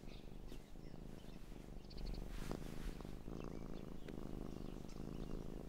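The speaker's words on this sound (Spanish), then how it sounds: "Es evidente que le gusta eso. Escucha. Está ronroneando." A cat purrs softly and continuously in a children's cartoon scene, a low rumbling drone running under faint chirping bird-like sounds, quiet overall.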